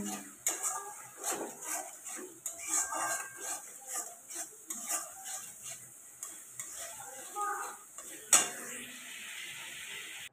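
Potato and okra with turmeric and chilli powder stirred and sautéed in a pan for a Bengali aloo bhindi, steady sizzle under rhythmic scraping strokes of a spoon, one sharper clank of metal near the end.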